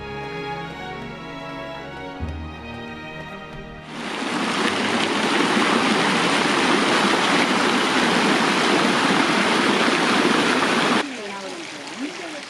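Steady rushing water from garden fountains at the Alhambra in Granada splashes continuously, loud and broadband, beginning abruptly after some music and cutting off near the end.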